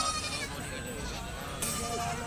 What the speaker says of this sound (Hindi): ये देखिए बरबरी बकरी